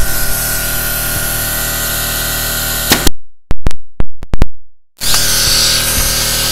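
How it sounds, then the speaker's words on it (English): A pneumatic brad gun set to 100 psi fires 1 3/8 inch staples into wood shelving. It gives about six sharp, loud cracks in quick succession between stretches of steady hiss from the air compressor. "for the assembly process, I'm going to use a pneumatic brad gun."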